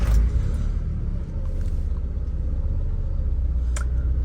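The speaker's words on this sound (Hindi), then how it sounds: "तो अब गाड़ी को मैं अब स्टार्ट करता हूँ।" A modified 2000 Honda Civic EK with a D17A engine swap starts with a brief loud burst, then settles into a steady low idle rumble close by, with a faint click near the end.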